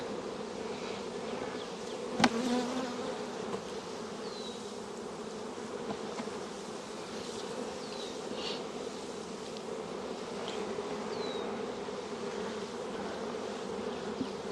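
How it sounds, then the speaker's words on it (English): Many honeybees buzzing inside an old hive as a nuc is dropped in, a constant soft drone of countless wings with occasional individual bees passing close, one brief sharp knock early on. "there's so many bees in here."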